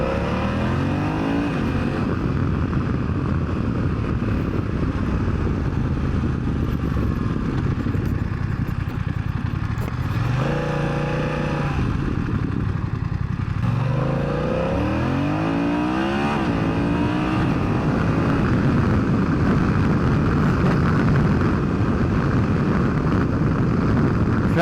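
A BMW F900XR motorcycle engine drones steadily while riding, with a brief rising rev in the middle, heard from the rider's position under constant wind rush and no talking.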